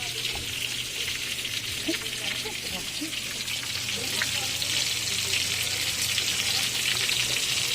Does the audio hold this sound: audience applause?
no